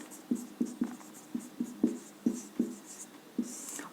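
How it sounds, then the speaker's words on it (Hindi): Handwriting during a classroom lesson, a steady series of close, distinct pen strokes tapping and scratching on a board or paper, each about a quarter second apart. "अब यहाँ पे हम लिखेंगे समस्थानिक"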